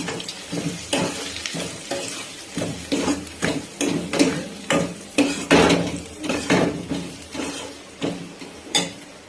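A spoon scrapes and clanks around a pot, stirring masala spices into sizzling food in rhythmic strokes about once a second, loud and close, with frying hiss underneath.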